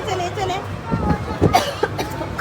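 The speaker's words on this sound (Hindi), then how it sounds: "खांसी आने लगी है मुझे।" Someone coughs a few times, short and close, during a birthday outing. People are talking at the same time and partly cover the coughs.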